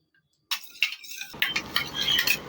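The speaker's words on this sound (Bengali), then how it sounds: "এবারে দুধের মধ্যে মিশিয়ে নেব।" Lime being stirred into milk in a bowl, a run of soft scraping and light clinks from a utensil against the bowl, fairly close, starting after a short silence and continuing steadily.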